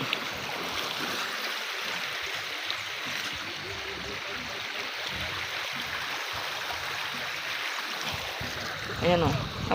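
Strong, clear mountain stream water in Bicol rushes and churns steadily up close, with a brief splash near the end.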